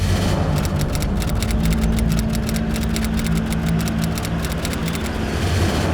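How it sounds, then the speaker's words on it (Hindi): A police superintendent's car engine idles steadily and close, a continuous low rumble with a constant hum running through the whole stretch, no voices over it. "एसपी साहब की गाड़ी?"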